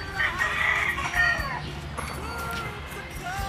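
A rooster crows near other birds and farm animals at a woodland hotel mini zoo, the call rising over a busy outdoor background with faint voices.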